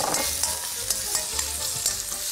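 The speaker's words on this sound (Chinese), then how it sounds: "洋葱呢把它炒香了之后呢，我就放点姜末下来" Chopped onion, minced ginger and hand-chopped shrimp paste stir-fry in hot oil in a pan, giving a loud, constant sizzle. Sharp scrapes and clacks of the spatula recur every half second or so. No voices are heard.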